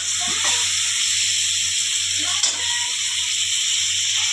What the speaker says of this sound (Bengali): আলুগুলো আলাদা করে আর ভাজলাম না, একসঙ্গে ভেজে নিচ্ছি পেঁয়াজের সঙ্গে